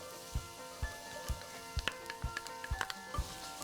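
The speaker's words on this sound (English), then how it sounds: "We're gonna cook this a little bit until the mushrooms get slightly tender" Sliced fresh shiitake mushrooms sizzle gently in a pan for congee, with a soft steady crackle broken by regular low thumps and faint clicks, close and fairly quiet.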